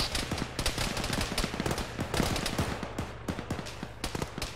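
Dense gunfire rattles in a military video game, overlapping bursts and single shots in rapid, irregular succession, loud and close throughout.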